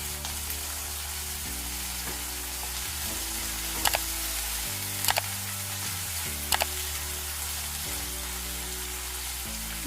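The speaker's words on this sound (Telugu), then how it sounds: "ఉల్లిపాయలు కొంచెం కలర్ మారే వరకు వేయించుకున్నాము" Onions and dried red chillies frying in a pan for a thotakura veppudu, a steady sizzling hiss with a few sharper spatters and faint low hum underneath.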